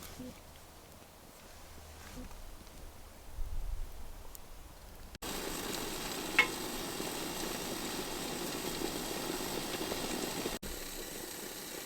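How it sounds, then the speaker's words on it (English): Water rolling toward a boil in a pot on a Bushbuddy wood-burning stove, a steady broadband hiss and seething rush that swells abruptly and holds loud and close, with brief faint voice earlier. "Pretty sure we got a boil there."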